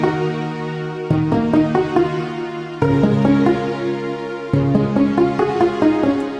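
Layered piano and sustained strings play a song chorus, soft piano notes striking in short phrases over steady string chords, with no voices.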